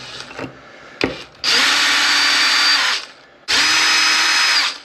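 Power driver on an Arrma Big Rock 6S RC car whirs in two sustained bursts, driving screws into plastic, after a few short clicks and handling noises; loud and close, with no talk.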